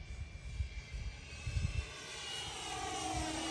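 An E-flite Viper or Freewing Avanti radio-controlled sport jet passing at low throttle on a windy, overcast day, its thin steady whine drifting in pitch over gusty wind rumble that fades out partway through.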